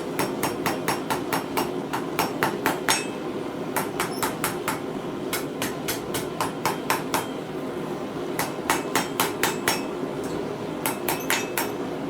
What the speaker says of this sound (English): I rather do it with the hammer